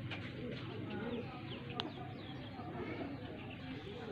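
Pigeons with freshly coloured feathers flutter and settle to land, soft wingbeats and faint coos over a low steady background hum, with a brief sharp flap midway.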